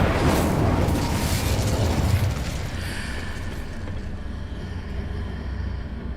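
Fire spell blasts from Confringo and Incendio in Hogwarts Legacy, a loud burst of fiery booming and crackling that fades into a lingering rumble and quieter fizzing.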